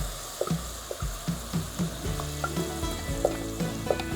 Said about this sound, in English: hear that little sizzle